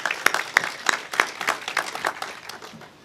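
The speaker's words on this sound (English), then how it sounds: "So let's give Congressman Connolly a round of applause." Scattered, fairly sparse clapping from an audience at a Juneteenth celebration, honoring a congressman, with distinct individual claps that thin out and fade over a few seconds.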